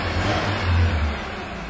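A 1997 Ford engine, recently fixed after hard starting and a rough idle, runs with a loud, steady, close-up mechanical hum and a slight swell in the middle, with no voices.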